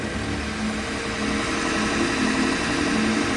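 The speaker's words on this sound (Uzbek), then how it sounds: "Bu Nissan mashinasini motorni ishlashini eshityapsizlar" A Nissan car engine with no oil runs steadily and loudly at close range, a continuous low rumbling idle with a faint rattling knock throughout and no one talking.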